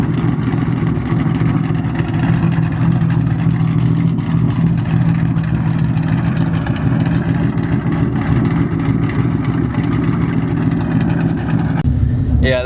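Straight-piped Ford Mustang with a cam and nitrous, revving loudly and steadily with a rough, choppy idle-like rumble throughout, cutting off near the end.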